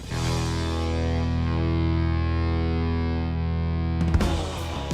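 An electric guitar through a Behringer Fuzz Bender vintage-style fuzz pedal: a sustained, heavily fuzzed chord rings out thick and saturated, then a burst of new distorted strumming near the end.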